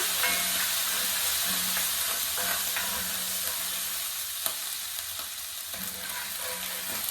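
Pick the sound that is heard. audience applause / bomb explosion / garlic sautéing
garlic sautéing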